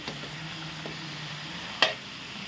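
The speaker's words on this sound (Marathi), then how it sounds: "हे पण आता आपण छान ढवळून घेऊया" Jackfruit curry with fried peanuts and tempering is stirred in a pan, giving a faint, soft sizzle and scraping with one sharp clink of the spoon near the end.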